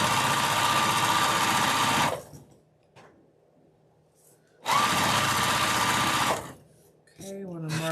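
A sewing machine runs in two bursts while stitching a placemat made from fabric scraps, a steady loud whir stopping for a few quiet seconds before starting again, with a voice briefly at the end.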